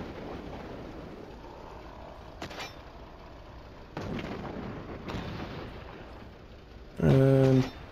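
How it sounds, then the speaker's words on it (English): Gunfire and explosions from the military game Cepheus Protocol: several dull booming bursts spaced a few seconds apart over a continuous rumbling battle background, closing with a loud tonal blast. "throw a grenade up here"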